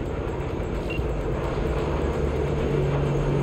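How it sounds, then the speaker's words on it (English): A train rolls along in the Cyberpunk video game, a steady low rumble and rattle of rail cars with a faint higher tone, heard close and continuous. "Follow the train."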